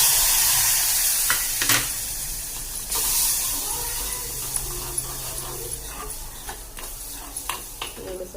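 Milk poured into golden roasted semolina (rava) in a pan for sheera sets off a loud, steady hiss and sizzle, with scattered clinks and stirring scrapes that ease slightly over time.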